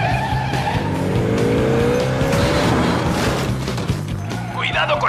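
A cartoon car revs and speeds off with tires squealing, a loud sustained engine drone carrying long skidding squeals and a whining pitch sweep, with busy animated action sounds layered over it.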